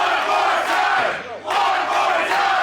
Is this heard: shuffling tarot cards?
no